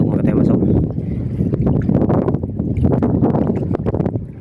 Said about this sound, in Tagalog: sobrang malakas na ng hangin mga kataymas, at malon-alon na